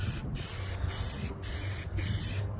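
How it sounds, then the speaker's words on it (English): Continuous hissing of an aerosol spray paint can on chipped car paint, broken by brief regular pauses about every half second, steady and close, outdoors in wind. "Now I'm going to spray it just like that"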